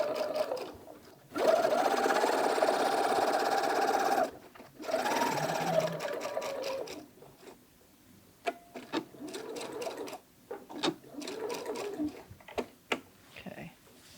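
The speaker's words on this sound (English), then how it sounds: "you're just going to sew through all 3 layers down this unfinished edge at 1/4 inch seam allowance" Sewing machine stitching a quarter-inch seam through three fabric layers for an envelope French seam, running in several bursts with a steady whirring hum, pausing briefly between runs, close and clear.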